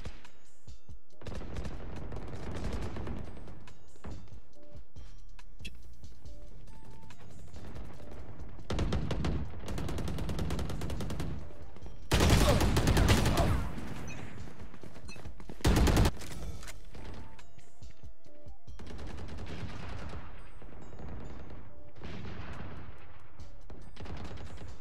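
Bursts of rifle fire in a video game on the Icebox map, with rapid tapped shots and busy, dense combat noise, plus a couple of louder, heavier volleys partway through.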